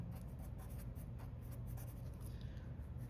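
Pen or marker writing out algebra working on a board or paper for a function transformations lesson, a steady faint scratching that runs continuously against a background hum, with no talking.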